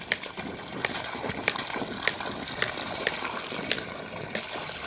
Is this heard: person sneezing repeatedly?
no